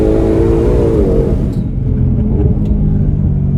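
A 2020 Shelby GT500 accelerates with a loud, steady engine drone and road rumble heard from close range, holding a continuous tone with a slight pitch change.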